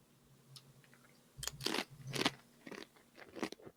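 Crunchy corn-flavoured snack chewed close up, a few loud crisp crunching bursts in quick succession with quiet pauses between, no talk.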